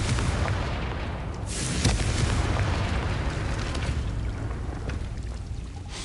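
A Confringo fire spell blasts in the video game Hogwarts Legacy, a loud rumbling explosion with a sharp burst near the two-second mark, followed by sustained crackling roar that slowly fades.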